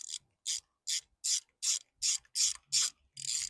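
A tool tightens a cable clamp on an Evinrude E-Tec outboard motor, ratcheting in eight evenly spaced, close rasping strokes with no speech.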